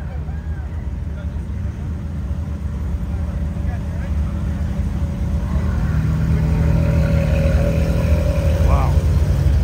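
A Ferrari engine at a Cars & Coffee show rumbles and revs, swelling louder toward the end under nearby people chatting over a constant outdoor crowd background.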